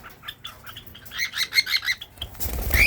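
Pet lovebirds and cockatiels flutter and chirp nearby, soft wingbeats and scattered tweets building into a rapid series of bright, close chirps, ending in a louder burst of flapping.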